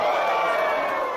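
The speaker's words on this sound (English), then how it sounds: "You hear the oohs and the ahs. The crowd loves it." An indoor crowd at a live independent wrestling show lets out a sustained, swelling murmur of oohs and aahs that fades slightly over about a second.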